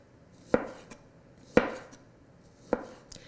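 A knife slices through plums for a rustic tart, giving three sharp, distinct cuts against a board at roughly one-second intervals, close and clear with no talking.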